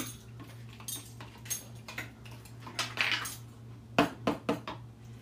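Zucchini ravioli filling is stirred with garlic paste in a bowl, with quiet scraping and clinking of a utensil against the bowl, irregular taps that grow a little louder and quicker toward the end, under a faint steady hum.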